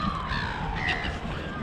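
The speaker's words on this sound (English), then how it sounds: "surrounded by seagulls." A flock of seagulls calls in harsh, overlapping cries close by at Port Lincoln on the Eyre Peninsula in Australia, loud and continuous with no talking.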